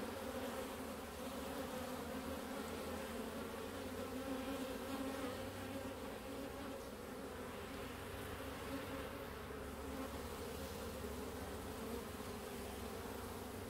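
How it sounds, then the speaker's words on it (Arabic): Honeybees from a traditional hive drone in a dense, steady buzz throughout as they are gathered off a surface into a box, close and continuous with no talking. "وسوف نجمع النحل الملتصق في السطح ونضعه في الصندوق"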